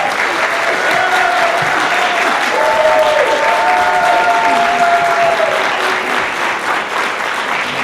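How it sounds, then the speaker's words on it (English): Audience clapping at a legislative district candidate forum, steady and full for the whole stretch, a few faint voices and tonal sounds drifting over it. "Well, you can clap for Barbarann now."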